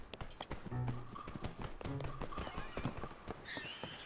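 Horse hooves clip-clop steadily in The Legend of Zelda: Tears of the Kingdom as the horse walks along, a close, rhythmic series of taps mixed with faint game sounds and no talking.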